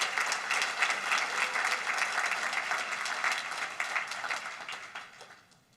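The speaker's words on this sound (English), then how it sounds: "we need to give them a round of applause" An audience applauds a superior court's staff at an alumni hall of fame ceremony: sustained, dense clapping from a sizeable crowd that holds steady and then fades out.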